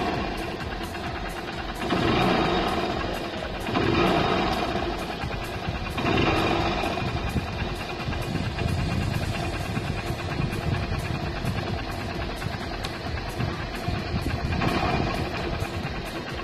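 A motorcycle engine runs steadily at idle with a low, throbbing rumble, swelling briefly every couple of seconds as if the throttle is blipped; no talking over it.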